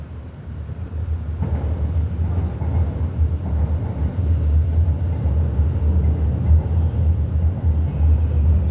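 Low rumble of a single car passing on a street late at night, swelling steadily and growing louder toward the end, with no talking.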